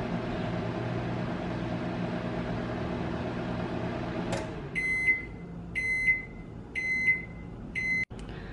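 A microwave oven hums steadily for several seconds while heating a Choco Pie, then stops, followed by four evenly spaced electronic beeps and a sharp click.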